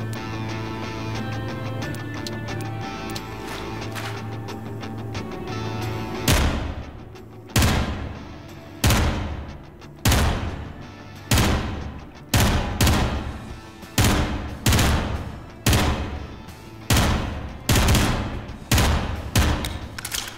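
Rifle shots at a shooting range in the Prison Simulator game, a series of about a dozen loud, evenly spaced booming reports, each trailing off before the next, following a stretch of steady background sound.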